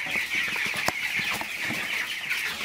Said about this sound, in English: Here are the birds, the broilers.